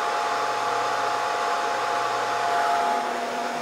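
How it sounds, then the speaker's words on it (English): The hot-air upper heater of a Scotle IR 360 rework station blows onto a circuit board, giving a loud, steady blower hiss and whine, like a hair dryer, that runs unbroken with a slight swell near the end. "the green shows you the heat that's being applied to get us there"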